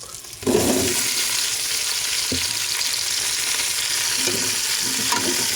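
Sautéed ingredients hit a hot pan of golden-browned aromatics for miswa with patola, bursting into a loud, steady sizzle with a few scraping stirs along the way.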